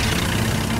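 Cartoon boat engine idling with a steady low rumble, continuous and fairly loud for under a second, no voices.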